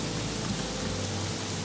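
Steady rain in the Craftopia video game, a dense, even wash of falling drops with a low hum beneath, continuous and unbroken throughout.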